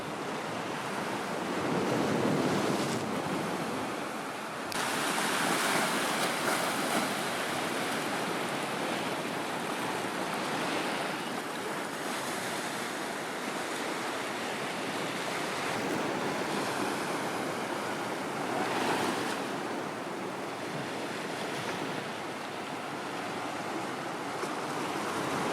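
Mediterranean Sea waves wash against a rocky shore and pier at Ashkelon, a continuous loud surf roar with periodic swells and gusting wind buffeting the microphone, no voices.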